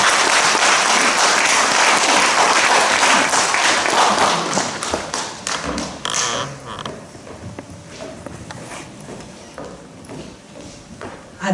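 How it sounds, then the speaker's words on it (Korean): An audience at a Daegu literary association's first joint book launch, held in a live café, claps loudly to welcome the association president, the dense applause thinning after several seconds into scattered claps and quiet. "우리와 같은 큰 환영의 박수로 모시겠습니다"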